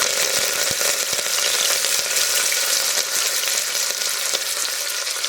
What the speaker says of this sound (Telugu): ఉల్లిగడ్డలు, కరివేపాకు, ఇవి కొంచెం సేపు వేగాలండి